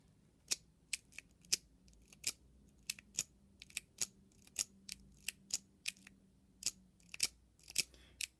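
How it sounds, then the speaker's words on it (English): An Avis lock being zipped with a large tapered pick, giving a quick series of sharp, close metallic clicks and snaps at uneven intervals, with no voice. "Now, let's see if the Avis can be zipped."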